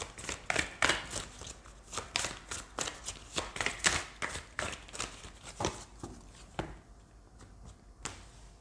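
Oracle de la Triade cards are shuffled by hand in a steady run of crisp, close riffling bursts, tapering off near the end.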